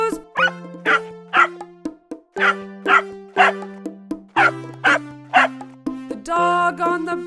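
A singing voice imitates a dog barking in the children's song Wheels on the Bus, giving a rhythmic series of short woof-like calls over a steady musical backing.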